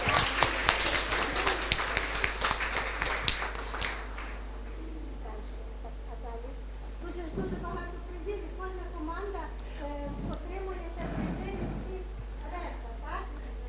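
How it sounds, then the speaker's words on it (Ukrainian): Brief burst of audience applause at a Ukrainian youth financial literacy tournament final as an award is presented to the team captain, clapping for about four seconds before fading, followed by someone speaking over a low steady hum. "Ваші оплески"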